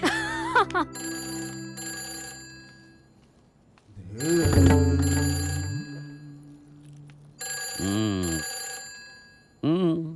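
A telephone rings in repeated bursts with gaps between them, loud and close, alongside other voices and sounds.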